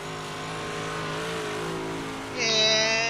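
A race car engine in the iRacing sim on the Charlotte oval drones steadily with a harmonic whine, then climbs higher and louder near the end.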